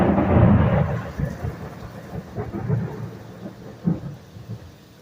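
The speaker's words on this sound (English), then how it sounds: "The thunder rolls" Thunder rolls during a thunderstorm in Binghamton, New York: a loud low rumble at first, then fading, uneven rumbles with a sharper crack near the end over steady rain.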